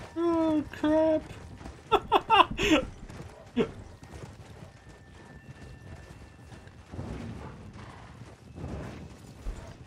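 Horse in the Red Dead Redemption: Undead Nightmare game, with clip-clopping hooves and a whinny early on, then fainter hoof and movement sounds under soft game ambience.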